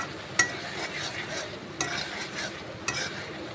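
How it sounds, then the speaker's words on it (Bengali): Spiced potato masala, seasoned with turmeric, chili and cumin powder and salt, being stirred and sautéed in a pan: a low continuous sizzle with a few sharp spatula scrapes, close by and without speech. "ভালো করে এটাকে কষাবো।"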